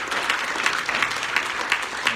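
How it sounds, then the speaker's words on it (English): A room of Rotary Club meeting attendees claps for sponsors, a brief steady patter of applause with individual claps standing out, with no talking over it. "So let's give a round of applause to our"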